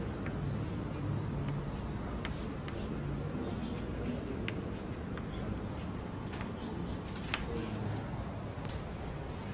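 Marker or chalk scratches and taps on a classroom board during a chemistry lesson, soft irregular strokes under a steady background hum, with no clear speech over it.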